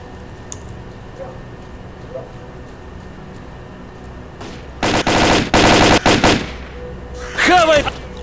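Video game gunfire: faint distant pops at first, then bursts of rapid automatic fire rattle loudly in two clusters, followed by a brief higher-pitched sputter.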